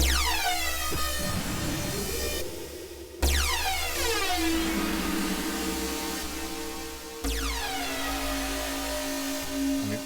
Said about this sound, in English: you've now kind of got like a techie foghorn sort of sound